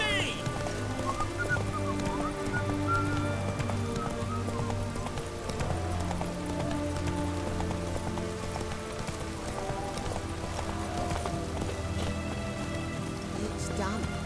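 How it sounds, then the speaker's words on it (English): Steady rain patters across the Witcher 3 game world, a constant wash mixed with clopping horse hooves and shouting voices. "It's raining, of course it's going to be."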